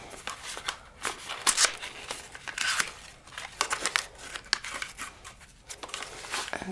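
Crinkling and tearing of card game packaging followed by quick riffling of a card deck, close up and fairly quiet, in short irregular bursts.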